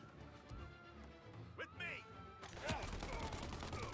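Shotgun blasts and gunfire in the video game Mafia Definitive Edition, sharp repeated reports clustered in the second half, loud and close, with a voice speaking over the early part.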